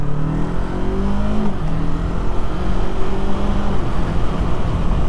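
A Yamaha MT03 motorcycle pulls away on the road, its engine note steady and rising slightly with a whirring drone close by, heard alone without talk.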